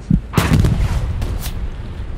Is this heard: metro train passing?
no